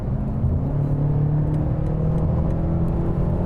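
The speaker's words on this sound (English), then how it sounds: "we still have to take the opportunity to drive an M8 competition. Come on, 600 horsepower." A BMW M8 Competition, a 600-horsepower car, pulls under acceleration with a steady loud engine drone and a slowly rising pitch, heard from inside the cabin with no talking.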